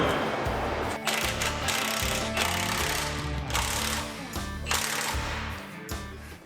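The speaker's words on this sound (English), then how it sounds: "judging by how you were cranking out with the impact" Impact wrench on a rollback truck after a hydraulic filter service, rattling in dense, rapid bursts of hammering that start and stop over and over, loud and close throughout.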